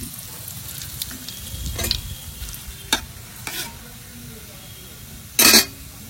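Bay leaf and dried red chili crackle and sizzle in hot oil in a picnic cooking pot, a low, fairly quiet fry punctuated by a few sharp clicks and one brief louder clatter near the end.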